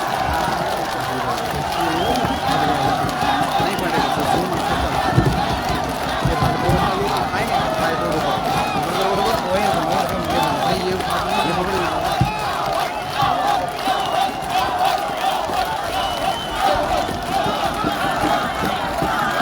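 Crowd at a political rally in Anantnag's Dooru, cheering and clapping in a steady, dense roar throughout with shouted voices mixed in.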